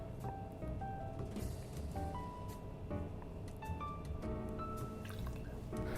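White creme de cacao, about 15 ml, poured for a cocktail: soft, quiet trickles and scattered drips of liquid, irregular and close, with no voices.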